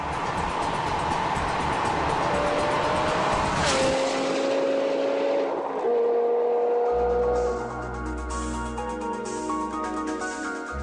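A BMW AC Schnitzer GP 3.10 sports car in the 550 hp class roars loud and close, its engine note rising and shifting through several gears before settling into a steadier, throbbing run.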